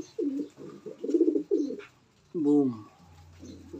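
Pigeons coo in a loft with several low, throaty, rolling calls close by, and a voice briefly speaks between them.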